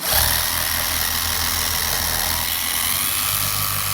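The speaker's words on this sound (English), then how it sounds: "So in dual action mode with a microfiber cutting pad from Lake Country" A long-throw dual action polisher with a 12 mm orbit runs in dual action mode with a Lake Country microfiber cutting pad, compounding a Mitsubishi Evo 8. It gives a loud, steady motor drone and whir close by.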